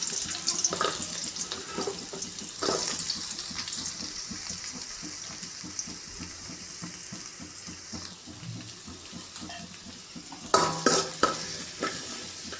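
Onions sautéing in hot oil in a pan, a steady close sizzle running throughout with occasional stirring scrapes and a louder clatter of spoon against pan near the end.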